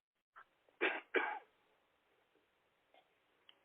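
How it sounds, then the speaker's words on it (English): A few short, harsh coughs close by, one faint burst then two strong ones, followed by quiet breathing. "Get this cough out."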